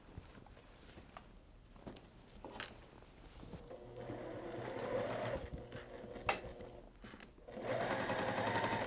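A sewing machine stitches a quilt border in several bursts, steady mechanical whirring that starts and stops, with quiet handling noises between runs and no talk.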